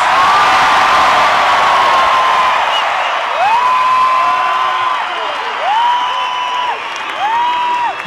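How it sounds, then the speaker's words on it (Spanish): Concert audience at a show shouting and cheering loudly in a sustained roar, with rising whoops and whistles cutting through repeatedly over the crowd noise. "Y un grito que se oiga hasta los tres potrillos."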